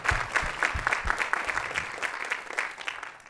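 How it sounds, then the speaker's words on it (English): Conference audience applauding, dense clapping at close range with a few heavier thumps early on, fairly loud at first and gradually thinning out, no voices on top. "Can we give them a round of applause for this?"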